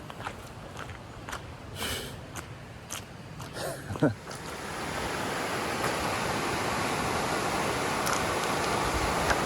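Steady broadband rush of flowing river water, loud and close, preceded by a few seconds of quieter water with scattered light knocks and rustles.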